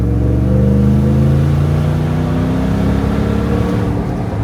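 A Lexus GX470 with a new exhaust accelerates at wide-open throttle toward 4,000–5,000 RPM. The engine note is loud, close and deep, with a continuous rising rumble that holds for several seconds.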